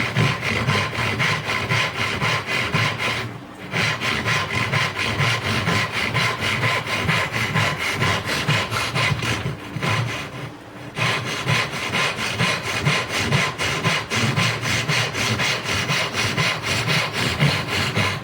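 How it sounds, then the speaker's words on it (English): Crosscut handsaw cutting through wood in a steady back-and-forth rasp of rapid even strokes, loud and close, with two brief pauses in the rhythm and no speech. "this is actually a crosscut saw, so it really does a nice job of this crosscut application"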